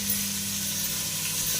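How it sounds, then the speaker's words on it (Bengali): A fish curry with papaya and potato simmers over a cumin tempering, giving a steady, close sizzle and hiss with a low hum underneath, unbroken and with no voices. "মাছ দিয়ে, পেঁপে দিয়ে, আলু দিয়ে ঝোল হচ্ছে, জিরে ফোড়ন দিয়ে"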